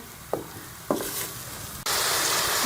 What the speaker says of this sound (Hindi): हम इसको ढक के थोड़ी देर के लिए पकाएंगे ताकि हमारे प्याज जो है वो सॉफ्ट हो जाए।